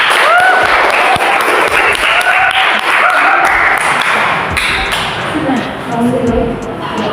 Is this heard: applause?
yes